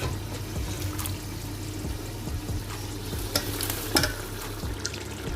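Mutton and yakhni stock going into a pot of masala for mutton pulao, giving a steady close sizzle and bubbling with scraping stirs and a couple of sharper clanks, no voices.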